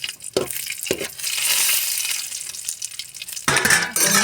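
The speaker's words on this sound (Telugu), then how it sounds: "ఈ హీట్ అయ్యాక దాంట్లోకి మీ దగ్గర ఏ డ్రై ఫ్రూట్స్ ఉంటే ఆ డ్రై ఫ్రూట్స్ వేసేసుకోండి" Dry fruits such as cashews frying in hot oil in a pan, a bright hissing sizzle with short stirring scrapes near the start and a louder burst near the end, close and alone without talk.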